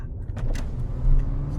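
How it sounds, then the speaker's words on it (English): Power windows on a Mercedes C43 AMG lowering, a short low motor whir heard up close inside the car for under two seconds, with faint rattles above it. "Okay, I'm gonna lower down my windows here real quick."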